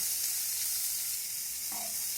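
Chopped onions and green chilies frying in a pan, with a loud, steady hiss of oil close by and a single soft stir near the end, no voices present.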